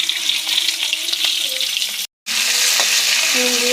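Five-spice seeds and slit green chillies sizzle loudly in hot oil, a steady crackling fry with a brief cut in the middle, then the sizzling resumes just as strongly.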